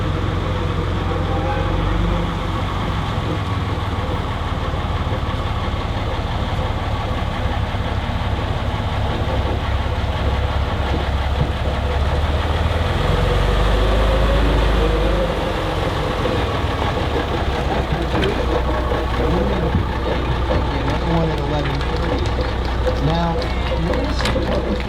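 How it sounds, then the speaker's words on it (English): Small diesel locomotive with a 150 hp Cummins diesel turning a GE traction generator, running at a trolley museum; a steady low engine rumble throughout with some mechanical clatter and background voices. "It's powered by a 150 horsepower Cummins diesel, which turns a GE traction generator."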